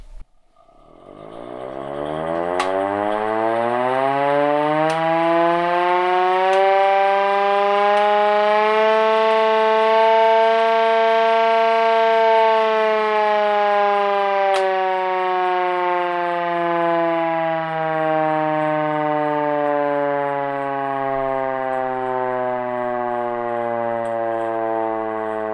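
A Cold War air raid warning siren in a bunker winds up from silence into a loud, sustained wail, holding a rich droning howl that sags slightly in pitch over about twenty-five seconds.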